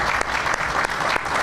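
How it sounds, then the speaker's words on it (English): Audience at the reopening of a Jewel Osco store in Auburn Gresham, Chicago, giving a round of applause: loud, dense, continuous clapping from a close crowd, with no talk over it. "let's give them a round of applause."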